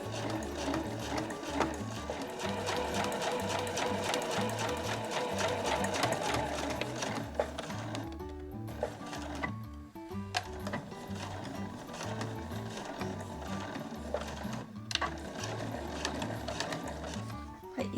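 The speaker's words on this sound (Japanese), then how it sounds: "ではこの後際を縫っていきます" A sewing machine stitches along the edge of a granny bag, a steady close whir with fast rhythmic mechanical ticking that runs almost continuously, broken by a couple of brief pauses.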